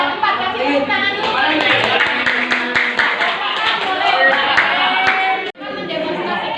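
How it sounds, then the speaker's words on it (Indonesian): A classroom of students claps for student groups during a microteaching lesson on simple machines and pulleys, a loud, dense burst of clapping with chatter and voices over it that stops abruptly near the end. "Kasih tepuk tangan dulu."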